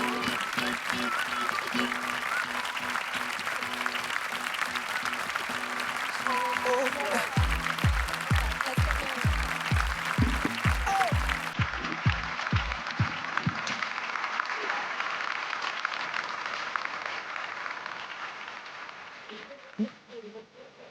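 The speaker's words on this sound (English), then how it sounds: "Another round of applause for our winner there." Audience applause for a startup challenge winner at a business event, steady sustained clapping with rhythmic thumping music underneath partway through, fading toward the end.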